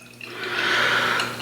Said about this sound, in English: So let's pour and see what we got.